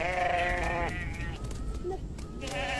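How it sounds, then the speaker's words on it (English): Sheep and goats from herds grazing in the Ethiopian highlands bleat nearby: a long wavering bleat, then a shorter one later, over a low outdoor rumble. "the Amhara also maintain herds of cattle, sheep, and goats"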